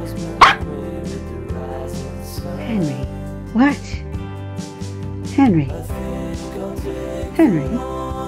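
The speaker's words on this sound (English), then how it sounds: "Why are you barking?" A dog barks in short, loud bursts several times, with whimpering yips in between and a person talking underneath.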